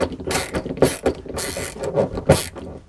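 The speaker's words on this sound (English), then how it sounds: "Use our ratcheting screwdriver" Up close, a ratcheting screwdriver drives a screw into a smoke detector bracket mounted on drywall. It gives a run of irregular clicking, creaking ratchet strokes and nobody speaks.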